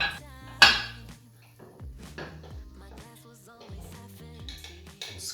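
The metal lid of a waffle iron set down over sweet potato batter gives one sharp clank, then a few lighter knocks and clinks follow nearby.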